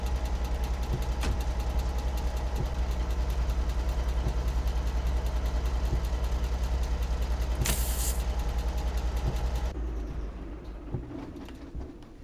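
A car engine idles in the Alaskan Road Truckers game with a steady low rumble and faint ticking, then cuts off near the end, leaving quieter background sound.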